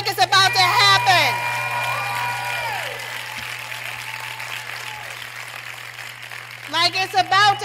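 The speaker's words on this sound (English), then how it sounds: "Let's clap it up like it's about to happen." A crowd at a motivational talk on manifesting claps steadily for several seconds, with a speaker's voice heard over the opening and again as the applause dies down.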